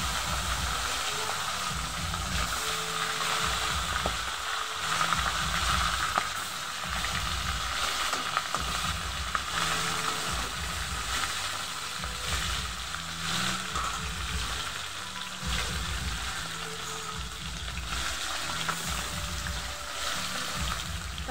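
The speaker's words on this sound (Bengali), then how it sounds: "তো আমি এই চারটে মাছই আগে ভেজে নেব" Four fish fry in hot oil in a kadai, a steady close sizzle and crackle running without a break, with occasional faint clinks of stirring.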